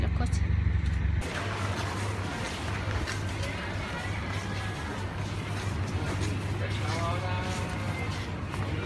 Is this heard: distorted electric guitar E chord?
no